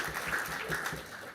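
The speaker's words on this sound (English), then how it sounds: "So a round of applause for them," An audience claps for young presenters at a politics event in Scotland, a soft, fairly distant patter of hands that stays thin and quiet throughout, with no talking over it.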